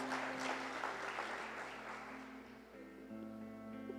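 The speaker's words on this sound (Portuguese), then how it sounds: "dar uma forte salva de palmas a Ele" A church congregation applauds during a worship service, a dense wash of clapping that carries steadily throughout, with sustained music tones rising beneath it toward the end.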